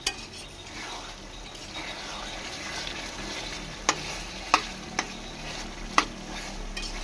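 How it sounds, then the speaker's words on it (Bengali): Posto chicken, chicken in a poppy seed paste, sizzles steadily in a pan over a high flame while a utensil stirs it, with a few sharp metallic clinks against the pan, close and without talk. "হাই ফ্লেমে দিয়ে আরেকবার ভালো করে নেড়েচেড়ে আমি রান্নাটাকে নামিয়ে নেব"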